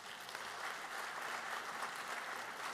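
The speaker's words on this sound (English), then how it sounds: "let's give all of our teachers another round of applause." Steady applause from an audience honoring teachers at a school Teacher of the Year awards ceremony, an even wash of many hands clapping at moderate distance, fairly soft and continuous.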